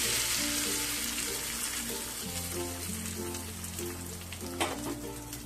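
Hot oil tempering crackles and sizzles in a dense, rain-like hiss as it is poured onto chutney, with a low musical tone humming underneath and one sharp clink near the end.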